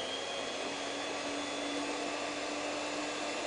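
A kitchen stand mixer beats butter, coarse sugar and eggs with a steady, continuous motor whine and whirring hum, close and loud throughout with no pauses and no talking.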